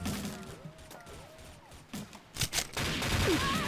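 Gunfire in the XSHOT video game, a cluster of sharp shots followed by sustained noisy firing, heard over background game sounds and brief bird-like chirps.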